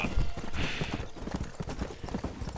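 A rare horse in the Red Dead Redemption video game gallops, giving quick, rhythmic hoofbeats that run steadily and fairly quietly throughout.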